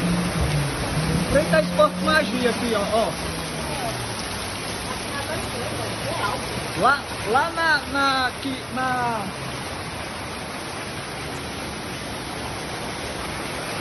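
Heavy rain pours onto a downtown street and sidewalk in Mossoró, Rio Grande do Norte, a steady broadband hiss of downpour running throughout, with someone talking over it at close range.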